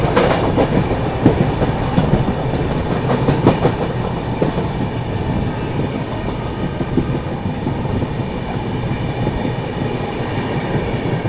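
Mahakoshal Express train running along the rails while overtaking the Sachkhand Express on the way to the next station: steady, loud rolling rumble with rhythmic wheel clatter from on board, and no voices.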